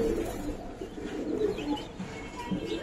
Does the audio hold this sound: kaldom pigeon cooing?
yes